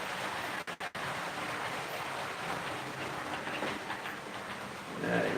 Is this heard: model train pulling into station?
yes